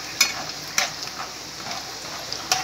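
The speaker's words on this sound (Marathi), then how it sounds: "शेंगदाणे पण आपल्याला व्यवस्थित चांगले खरपूस तळून घ्यायचे।" Peanuts deep-fry in hot oil for thin poha chivda, a steady soft sizzle broken by three sharp spoon clinks against the pan.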